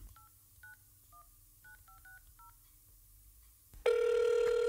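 A telephone number being dialed, a quick run of about nine distinct beeping keypad tones, then a loud steady ringing tone begins after a short pause.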